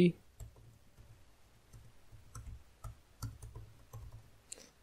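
Numbers being typed on a computer keyboard and Enter being pressed during a programming lecture, producing a run of light, uneven key clicks under a person talking.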